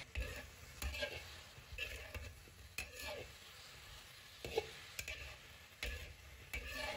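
Cauliflower stir-fried over high heat with pork belly, salt and seasoning, a quiet sizzle under repeated spatula scrapes and clacks against the wok at an uneven rhythm, close and moderately soft.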